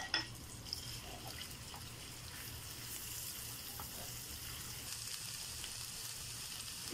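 Garlic fries in oil for an Egyptian fatteh topping, giving a faint, steady sizzle with light crackles throughout.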